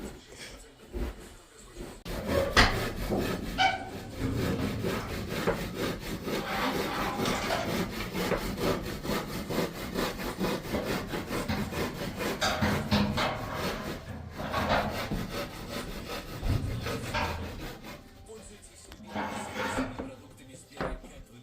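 Wood being sawn by hand indoors during a house fireplace installation, a long run of steady rasping strokes after a quiet start, with occasional voices in the background.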